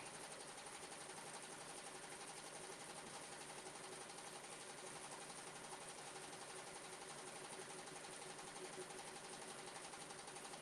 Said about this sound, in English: turned on my Juki sewing machine here